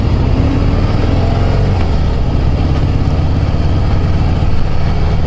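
A Harley-Davidson Heritage Softail motorcycle ridden on the road, its engine a loud, steady low rumble with wind noise, close and continuous throughout.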